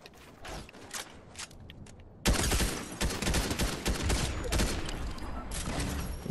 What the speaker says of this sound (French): Attention, ça nous tire dessus.